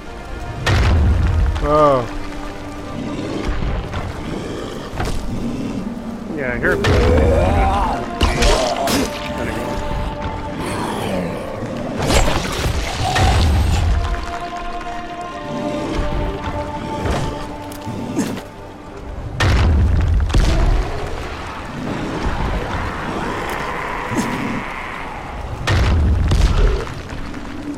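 Grenades exploding in the video game Dying Light, several heavy booming blasts at irregular intervals with rumbling debris and gameplay effects between them, one brief spoken exclamation.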